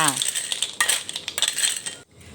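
River snails stir-fried in a pan with a little liquid: a metal utensil scrapes and clinks against the pan in quick strokes over a soft sizzle, close up, with a brief pause near the end.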